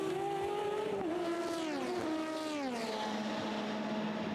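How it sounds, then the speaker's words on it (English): Onboard at Le Mans in a Porsche 911 RSR race car: a loud, steady engine scream with harmonics climbing and falling through several gear changes, dropping in pitch as the car brakes from high speed into a slow section, no voices. "That's what it's like to ride on board with that Porsche."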